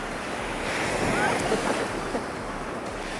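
Ocean surf rolling onto the sand at Kuta Beach in Bali, a steady broadband wash of waves with wind buffeting the microphone, continuous and fairly loud with no clear breaks.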